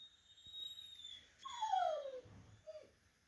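A terrier puppy whimpers nearby, a faint high whine sliding downward with a short second whine after it, amid quiet background noise.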